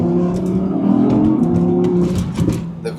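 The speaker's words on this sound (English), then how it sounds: "The V10 is alive again." An Audi R8's V10 engine revs loudly and continuously close by, its throaty roar rising and falling with no voices over it.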